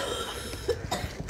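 A man sick with coronavirus gives a few short, dry coughs up close in a quiet room, isolated bursts spaced roughly a quarter second apart.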